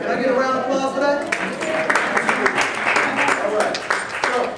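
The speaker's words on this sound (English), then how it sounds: "Can I get a round of applause for that?" An audience at a credit union financial seminar breaks into applause, a dense patter of many hands clapping that starts after a moment and carries on under a man's continuing speech.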